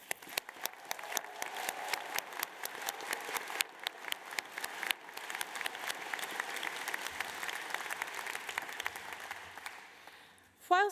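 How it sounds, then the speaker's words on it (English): An audience applauds at a London College of Fashion graduation ceremony, dense steady clapping from a large hall crowd that carries on for several seconds before trailing off. "please join me in a round of applause for our loved ones"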